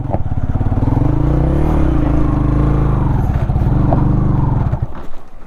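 A new CNG motorcycle engine labors loudly and close while climbing uphill, a deep, steady throbbing drone with a slight pitch wobble that eases off near the end.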